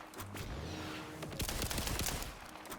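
Rapid gunfire from a Jakobs pistol in Borderlands 4, a dense burst of sharp overlapping shots with a rumbling echo, loud and close, with no talking.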